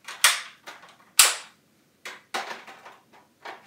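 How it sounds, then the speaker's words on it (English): An airsoft gun fires a few sharp, close snaps at irregular spacing, each with a quick clattery tail, with no talking. "it's just an airsoft gun."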